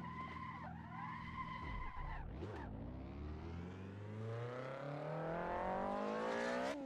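A BMW skids in Assetto Corsa traffic mode: a loud, close tire squeal sweeps and wavers, dips sharply, then rises again as the engine revs climb steadily in pitch, with no talking.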